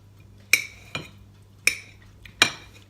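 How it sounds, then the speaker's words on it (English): A knife cuts through peeled boiled eggs and clicks on a plate or board, four sharp separate strikes spaced about half a second apart, close and clear in a quiet kitchen. "I'm just going to cut up my eggs"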